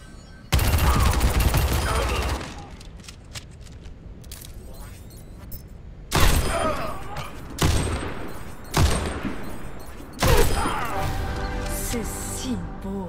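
Widowmaker's sniper rifle in a shooter game: one heavy shot with a long tail, then a quiet stretch, then three more sharp, booming shots spaced a couple of seconds apart, with game sounds in between.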